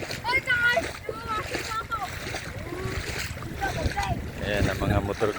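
Boat motors drone over floodwater in Pangasinan province, Philippines, with splashing, while people talk and call out loudly throughout.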